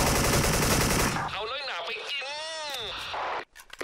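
Rapid automatic AK-74 fire in the video game Special Force rattles loudly in a dense stream, then stops and gives way to other game sounds and a voice.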